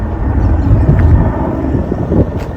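Helicopter flying over Capitol Hill in Washington, DC during a state funeral procession, a steady low rotor and engine rumble mixed with wind noise, fairly loud and continuous throughout.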